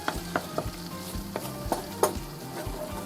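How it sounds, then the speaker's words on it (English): Garlic sizzles in a pan of shrimp scampi sauce as a utensil stirs it, with soft scrapes and clicks recurring over a steady fry. "give that a stir until the garlic is nice and cooked"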